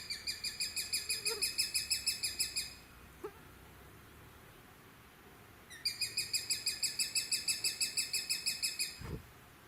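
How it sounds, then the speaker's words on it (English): A sharp-shinned hawk gives two bursts of rapid, repeated high piercing kek notes, each series lasting a few seconds with a pause between, clear and fairly close over faint background noise. "The calls she gives here are more typical of adults."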